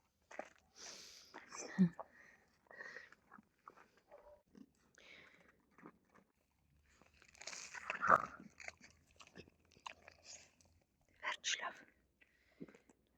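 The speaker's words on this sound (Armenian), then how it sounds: "ինչ ես հաչում" A dog barks and growls in short bursts outdoors in the cold, with someone speaking between the bursts.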